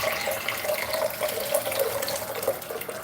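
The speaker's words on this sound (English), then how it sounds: "I'm gonna put some water in this." Tap water runs steadily into a container in a kitchen during hot sauce preparation, a continuous close splashing flow heard alone without speech.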